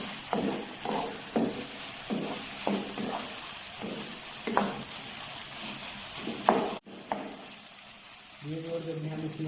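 Chicken samosa filling with spices frying in a pan, sizzling softly with a rhythmic scrape of stirring, followed by a brief clatter and a voice at the end.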